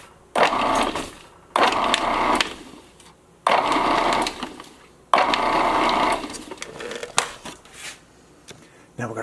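A food processor pulses biscuit dough in a kitchen in four or five short bursts of whirring motor and blade, each about a second long and separated by brief pauses, close and fairly loud.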